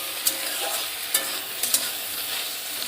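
Broad beans fry in a pan, sizzling steadily while a spatula scrapes and stirs in a few sharp, quick strokes, close and clear with no talking.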